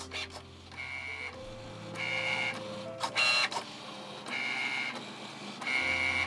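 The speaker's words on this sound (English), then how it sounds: "the Cricut prints a black box around our images and it shines a light to detect the exact precise cut" A Cricut Mini printer prints images with motorized whirring passes and mechanical clunks, broken by short pauses and clicks. The sound is close and steady and goes on for several seconds.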